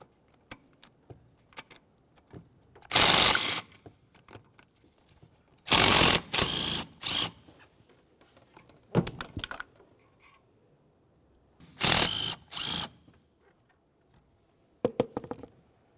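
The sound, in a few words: ratchet removing 13mm exhaust manifold mounting bolts, Chevrolet Cobalt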